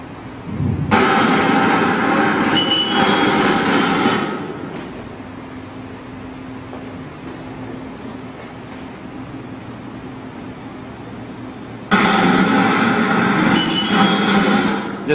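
Road traffic with trucks rolling past, a broad loud rumble and hiss that drops to a quieter steady hum for several seconds before heavy vehicles swell in again near the end.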